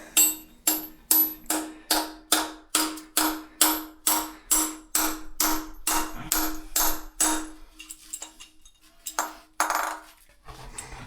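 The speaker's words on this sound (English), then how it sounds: "Going to hammer the left side." Steady metallic hammer strikes drive a 10mm wedge bolt into rock at a pit, ringing in a fast, even rhythm, about twenty blows, then a few scattered, duller knocks; close and loud, no talking.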